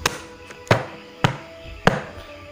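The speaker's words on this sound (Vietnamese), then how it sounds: "Bà vẫn thường nghe những tiếng gõ cửa," Sharp, dry knocks on a door of a haunted villa in Da Lat, heard as several separate raps spaced irregularly, fairly close and loud with no voices.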